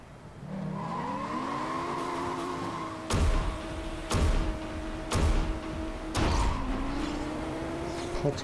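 A retro Hummer races in the driving video game Blur, its engine whining and shifting pitch steadily, broken by several sharp bursts of impact or skid noise toward the end.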